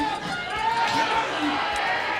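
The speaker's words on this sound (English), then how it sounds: "Rod getting the crowd hyped over there right now" A Super Smash Bros. Ultimate tournament crowd getting hyped, a roar of cheering spectators heard beneath a commentator's voice.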